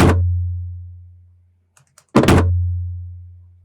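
Processed Fallout 3 lunchbox hits run through a drum bus: a loud booming thump with a long ringing low tail, a few faint small taps in between, then a second heavy boom that rings out again.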